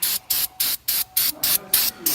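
Brake cleaner sprayed onto a brake caliper in about eight short, even hissing bursts with brief gaps between them, close and loud.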